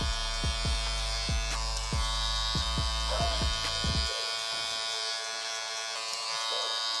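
Electric hair clippers buzz steadily and close up while giving a blurry fade haircut, a constant motor drone with rhythmic pulses as the blade lever is worked, easing to a smoother hum partway through.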